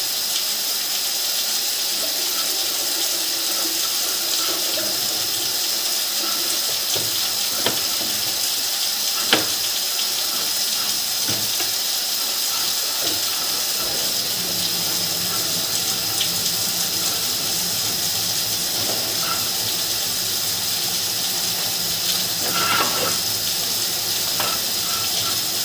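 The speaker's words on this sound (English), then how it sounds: "I'm going to turn the water off" Water runs steadily from a tap or hose at 720 Linden Ave, a constant hiss and splash that continues unbroken for the whole stretch, with a few faint knocks and clicks in the background.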